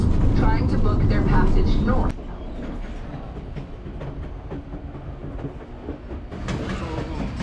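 Train on the Alaska gold rush railway rolling along with steady clickety-clack and loud running noise, heard close from an open outside platform, with a public-address voice talking over it.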